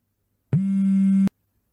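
A mobile phone gives off a single steady electronic tone, loud and close, holding for under a second before cutting off abruptly, with no voices around it.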